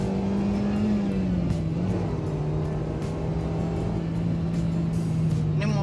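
A Suzuki Ertiga engine pulls hard at high RPM from inside the cabin, giving a steady, sustained drone that holds and rises slightly over several seconds, with road noise underneath.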